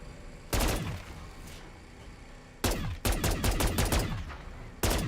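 Bursts of rapid automatic gunfire from a gun in Modern Warfare 3 Zombies, a short volley, a pause, then a longer stuttering string of shots and a final burst, loud and close with no talking.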